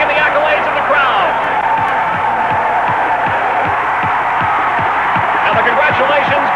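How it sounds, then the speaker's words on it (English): Spectators at an ATC three-wheeler off-road race cheering and whooping for the winner, a loud, sustained crowd roar with scattered claps under an announcer talking. "listen to this crowd cheer him on"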